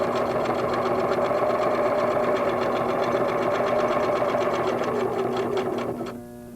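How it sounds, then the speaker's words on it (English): A Singer sewing machine stitching quilt fabric at a quarter-inch seam: a steady, loud mechanical whir with rapid needle rhythm runs continuously, then slows and stops at the end. "Use a 1/4 inch seam allowance and begin to sew."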